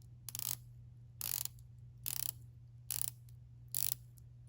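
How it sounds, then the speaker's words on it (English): Titanium Zelos dive watch bezel with 120 clicks turned in five separate bursts of rapid ratcheting clicks, each lasting about a third of a second, close and crisp with no talking. "You have a 120 click bezel, and let's hear it."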